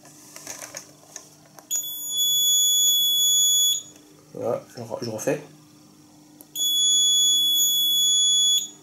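A Nugelec PAJ 3206300 technical alarm panel for an elevator, with a battery fault, runs a sounder test. Two steady, piercing electronic tones each hold for about two seconds, with talking before and between them.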